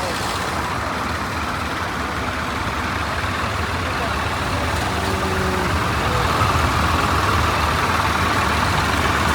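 Tractors in a Punjab farmers' tractor rally protesting land pooling rumble steadily nearby, a dense continuous engine drone that grows slightly louder toward the end, with faint voices under it.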